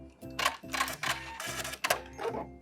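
A regular home sewing machine back-stitches over picot elastic on a DIY bralette, giving several short, loud mechanical runs of rapid rhythmic clatter in close succession, each separated by a brief stop.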